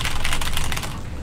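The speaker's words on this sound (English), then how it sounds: "I'm pressing everything on the keyboard." Computer keyboard keys are pressed in a rapid, dense run of clicks while playing the game SOMA, sounding loud and close over a heavy, rumbling background.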